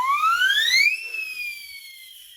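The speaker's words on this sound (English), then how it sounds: "This is a siren." A hand-cranked percussion siren sweeps upward in pitch, then holds and slowly winds down as it fades, a bright wailing tone heard alone.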